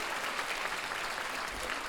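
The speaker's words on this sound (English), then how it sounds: "go ahead, round of applause" A round of applause from an audience at a wellness forum on multiple sclerosis: an even, continuous wash of clapping at moderate volume, steady throughout the short stretch with no voices on top.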